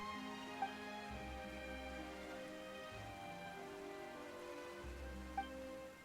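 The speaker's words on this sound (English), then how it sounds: "It's starting to rain." Steady rain falling in Fontaine in the video game Genshin Impact, a soft continuous hiss over a sustained musical score with low tonal swells, no voices.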